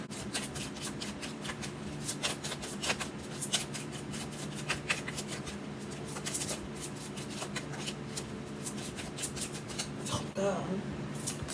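Oracle cards being shuffled by hand, rapid crisp riffling and flicking in repeated bursts, close and fairly quiet, with a person talking softly at times.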